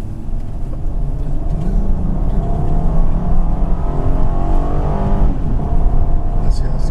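2014 Honda Pilot AWD accelerating hard through its gears, its engine droning loudly and steadily from inside the cabin, with pitch rising and settling at the shifts, and a voice talking over it.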